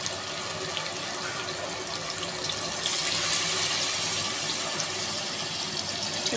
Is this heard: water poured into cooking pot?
yes